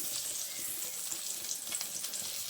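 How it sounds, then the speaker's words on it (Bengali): An egg omelette fries in a pan for an egg curry, a soft continuous sizzle close by with faint crackles, no talking. "আর 2 পিঠ খুব ভালোভাবে ভেজে নিচ্ছি।"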